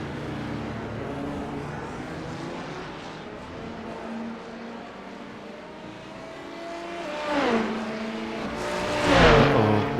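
GT3 race cars in traffic during an IMSA race in the iRacing simulator, with engines whining and shifting up through gears, then a louder rush as cars close in and pass near the end.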